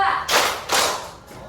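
A fourth-grade class in an Indonesian-language lesson claps in unison as part of a counting routine, producing two sharp, loud group claps about half a second apart, close by, with nothing else around them.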